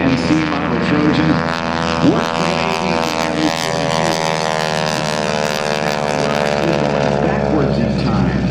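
North American T-28 Trojan trainer with a 1,425 horsepower radial engine droning overhead at an airshow, a loud steady propeller roar sustained throughout with a slight pitch shift, talk faintly underneath.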